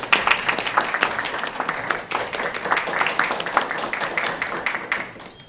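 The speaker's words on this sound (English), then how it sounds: "how about we have a round of applause for these two great teams?" Steady applause from an audience at an ethics bowl competition, dense clapping that holds for several seconds, briefly dipping midway before continuing.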